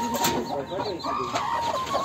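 Hens sitting on eggs in a home farm pen cluck and murmur close by in a steady run of short calls, with a voice speaking in the background.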